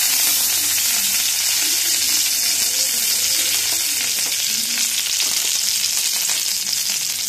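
Mustard seeds and curry leaves crackle in hot oil in a loud, dense, continuous close sizzle with fine spattering throughout.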